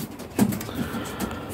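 Pigeons coo in a loft, with soft, low, throaty coos that swell briefly and then fade under steady background noise.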